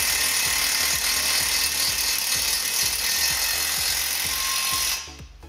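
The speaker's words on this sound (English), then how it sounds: "We'll just use the little impact, it doesn't have much torque." A small, low-torque impact wrench loosens a brake caliper bolt on a Porsche Cayenne during a front brake job, giving a close, loud, steady rattling whir with rapid hammering pulses before it stops abruptly near the end.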